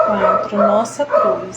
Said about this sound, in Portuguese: desde já eu peço desculpa pelo latido do cachorro, é porque ele está querendo sair